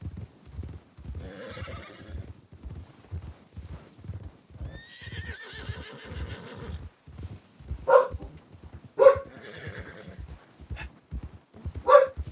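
A dog barks in the RedM video game, several sharp barks near the end at steady intervals, over a horse's rhythmic clip-clop hooves and a whinny.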